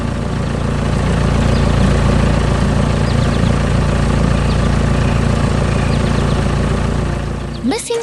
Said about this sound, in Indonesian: Mesin konstruksi hijau sedang bekerja keras di tanah berwarna coklat.